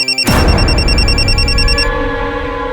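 A telephone rings loudly in a dramatized crime scene, a pulsing electronic ring with bright repeating tones over a harsh burst of noise that cuts off after about two seconds.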